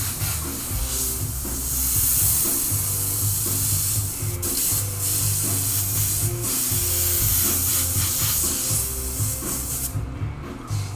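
An airbrush loaded with heavy white paint sprays onto a shirt in a continuous loud hiss lasting about ten seconds, with a low mechanical hum underneath and a brief break near the end.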